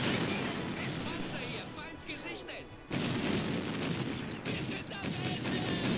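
Gunfire from infantry and vehicles advancing in the strategy game Blitzkrieg 2, a dense stream of rifle and machine-gun shots with booming blasts that briefly drops off and then resumes, with speech faintly mixed in.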